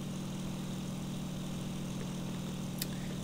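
An overheating aircraft engine drones steadily in IL-2 Sturmovik, a constant low propeller hum with no talking, with one brief faint click near the end.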